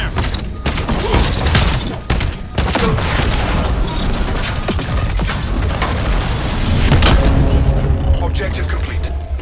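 Dense gunfire and explosions from the Black Ops 7 video game, rapid bursts and heavy booms layered continuously with in-game voice callouts.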